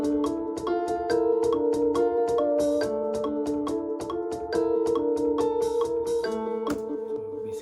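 Drill beat playing loud and clear, with a crisp hi-hat pattern ticking in a fast steady rhythm over sustained melodic tones and deeper hits, no talking.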